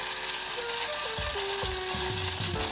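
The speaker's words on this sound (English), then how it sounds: "This will allow your buns to brown really nicely on the frying pan with just a little bit of heat." Steady sizzling hiss of sandwich buns toasting in a hot frying pan, with occasional low scraping knocks and clatter close by, no voices.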